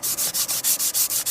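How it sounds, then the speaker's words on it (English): Smoothing paper rubbed back and forth along a wooden axe handle, about nine quick, even rasping strokes in a steady rhythm, close and fairly loud, with no talk. "Now I'll take this smoothing paper here and just give it a quick smooth. Quick sanding here."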